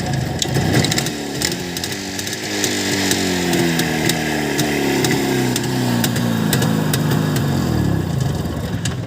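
An old CZ 350 two-stroke motorcycle engine, unused for nearly 20 years, putters and revs unevenly up close, its pitch rising and falling, with a sharp rattling crackle throughout.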